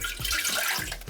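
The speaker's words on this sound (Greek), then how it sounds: "Σε ένα κατσαρολάκι θα ρίξουμε το νερό," Water poured into a small saucepan, a short continuous splashing rush with a couple of soft pulses, close and moderately quiet with no voices.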